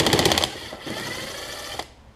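An impact driver works on the tiny screws of a Nikki carburetor, a short, rapid rattling hammer burst up close, then a pause and one faint click.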